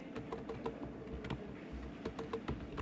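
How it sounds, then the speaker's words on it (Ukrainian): Quiet, irregular clicks of keys being pressed on a computer keyboard, a soft patter of taps with no voices over it. "Не клацайте, будь ласка, по клавіатурі."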